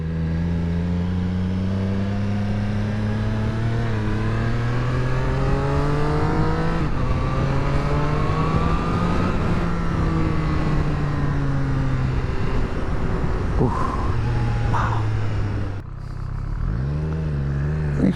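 A 2022 Triumph Street Triple RS in track mode pulls hard through the gears, its rising engine note climbing and dropping with each shift, loud and close, ending in a brief downshift.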